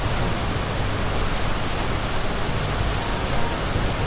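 A loud, continuous rush of water surging inside a whale's mouth in a kids' cartoon, a steady broadband roar with no breaks or voices.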